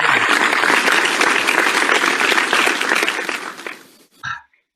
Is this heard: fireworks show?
no